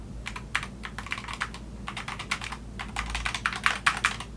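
Fingers type rapidly on a SteelSeries Apex Pro TKL Wireless mechanical keyboard, producing close, crisp clusters of key clacks in irregular bursts over a low background hum.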